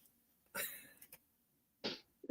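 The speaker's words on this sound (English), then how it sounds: "It keeps making me cough." Two short, sharp coughs stand apart in a quiet room, the first with a brief follow-up rasp, the second alone a second later.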